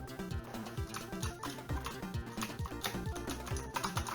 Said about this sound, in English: I'm using keyboard.